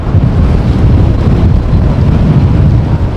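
Storm wind at Amsterdam Schiphol airport roars constantly and loudly across the microphone, a dense low rumble buffeting with no pause and no voices.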